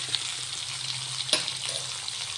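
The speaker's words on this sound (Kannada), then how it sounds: "ಈರುಳ್ಳಿ ಹಾಕ್ತಾಯಿದ್ದೀನಿ." Chopped onion dropped into hot oil with mustard seeds and cumin for a cabbage palya, giving a steady moderate sizzle with a few sharp crackles and a brief stirring clatter.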